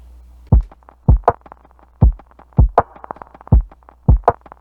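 A lo-fi hip hop drum loop built in Maschine and run through an SP404 filter repeats muffled kicks and snares in a steady groove, dull and bass-heavy with little top end.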